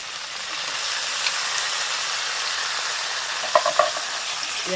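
Onion and tomato frying in oil in a pan for a fish curry, a steady loud sizzle and hiss close up, with a few brief stirring clatters near the end and no voices.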